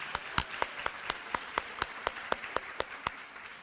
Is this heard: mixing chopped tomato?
no